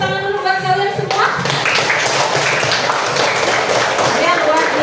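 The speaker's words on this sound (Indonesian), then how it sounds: "Kasih tepuk tangan dulu buat kalian semua" A sixth-grade class of children bursts into lively, dense hand clapping that carries on steadily after a brief spoken voice at the start.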